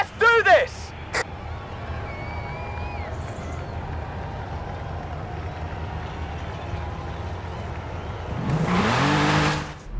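A car engine drones steadily through a Forza Horizon 5 race, a low continuous rumble with brief sharp bursts at the start and a louder revving swell near the end; voices can be heard over it.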